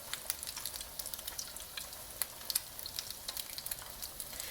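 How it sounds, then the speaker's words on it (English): Oil sizzling steadily as eggplant slices fry in a pan, with crackling pops scattered throughout, close up and continuous. "the whole process of frying goes so quick"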